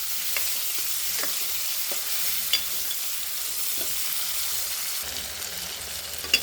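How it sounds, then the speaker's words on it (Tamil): Chopped tomatoes fry in a pan for a fish curry, a steady hiss of sizzling oil broken by soft scrapes and clicks of a spoon stirring now and then, close and continuous with no talk. "தக்காளி பழம் போட்டுக்கலாம். நல்லா வதங்கட்டும்."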